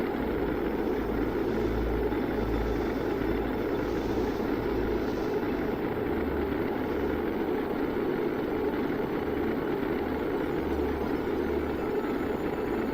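Rocket engine in the game Kerbal Space Program throttling up during a descent burn: a loud, steady broadband roar with deep rumbling low end, continuous throughout with no talking.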